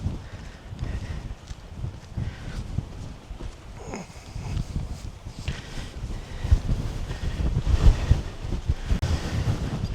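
Strong wind buffets the microphone out on Warley Moor, a continuous low rumble with gusts that swell and roar louder toward the end, with no voices.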